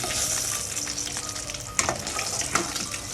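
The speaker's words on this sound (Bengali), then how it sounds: "আমি মাছটা লাল লাল করে ভেজে নিচ্ছি" Rohu fish pieces fry in hot oil, producing a loud, close sizzle with crackling bursts and two sharper spatters toward the end. No voices are heard.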